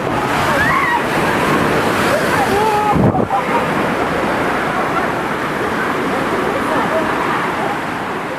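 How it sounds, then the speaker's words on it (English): Large winter storm waves surge onto the shore at high tide, a loud, continuous roar of surf and sloshing water mixed with gusting wind buffeting the microphone, with a brief sharp crash near the middle. "A winter storm combined with high tide can generate unusually large waves, causing seawater to surge rapidly onto the shore."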